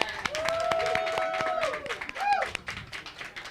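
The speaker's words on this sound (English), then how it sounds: "Can we give her a round of applause again?" Outdoor audience at a domestic violence awareness walk giving a speaker scattered applause, individual claps sounding over crowd voices and a rising tone.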